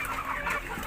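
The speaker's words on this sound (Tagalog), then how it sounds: "Tara, pakain na natin sa mga mga alaga natin ng manok." Native chickens cluck busily at feeding time, a dense, close chorus of overlapping clucks and chatter that never lets up over a short stretch.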